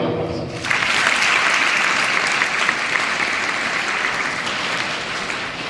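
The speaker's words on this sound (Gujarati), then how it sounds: "સૌથી પહેલા વાલીઓ અને વિદ્યાર્થી મિત્રો તાળીઓ પડશે" Parents and students break into loud, sustained applause at a school farewell ceremony for class 10 and 12 students, with a dense wash of many hands clapping evenly from start to finish.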